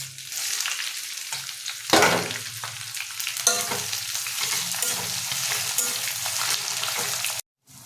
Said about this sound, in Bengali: এই গরম তেলে এবার আমরা দিয়ে দিচ্ছি কেটে রাখা পেঁয়াজ আর কাঁচা লঙ্কা